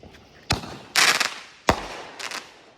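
Fireworks for a July 4th celebration bang outdoors, with sharp loud blasts and bursts of crackling, about four separate volleys spaced over a few seconds and no talking.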